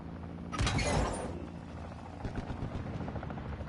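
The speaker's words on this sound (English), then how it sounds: "Our chopper gunner is inbound hot." A chopper gunner helicopter in Modern Warfare 3 arrives with a brief loud burst and rushing whoosh, then a low rotor drone with scattered faint gunfire crackles.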